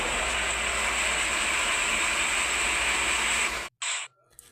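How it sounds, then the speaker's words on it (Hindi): An electric household flour mill (aata chakki) grinds wheat with a loud, constant whirring roar and a high whine, then stops suddenly, briefly starts again and falls quiet. "तो अब जैसे ही बटन प्रेस करेंगे ना तो चक्की आराम से चल जाएगी"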